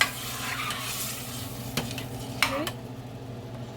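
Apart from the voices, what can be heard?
fresh tomato sizzling and stirred in a pan for spaghetti sauce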